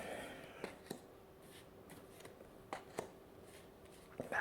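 Tarot cards are cut and shuffled in quiet, close handling: soft papery swishes and a few light card snaps at a calm, irregular pace.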